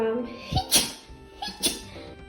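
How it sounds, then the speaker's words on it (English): A person sneezes twice, two short, sharp bursts about a second apart, close and fairly quiet, with a bit of breath before each. "I thought there was gonna be a third sneeze"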